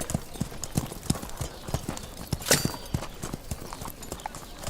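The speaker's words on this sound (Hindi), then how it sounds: "बेशक ये पोलोविस्तियन घोड़ा है" Horse hooves clip-clop in an uneven, fairly quick gait, close and distinct, with faint background sound and a sharp sound partway through, from a dubbed period drama with a prince riding a horse.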